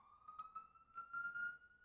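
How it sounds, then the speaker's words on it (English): A distant siren holds a faint, steady high tone that rises slightly, with a few soft clicks and knocks nearby. "What is going on with the siren?"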